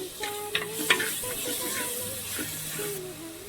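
Green chillies and curry leaves sizzle in hot oil for a homestyle fish curry, a steady close frying hiss with a few sharp spatters early on and the scrape of stirring, no talking.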